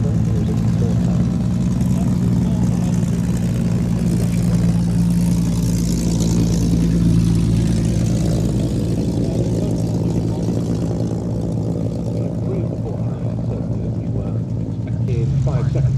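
A Spitfire propeller fighter flies at the Duxford Battle of Britain airshow, a loud sustained engine roar that builds and holds with a throaty drone. An announcer talks over it throughout.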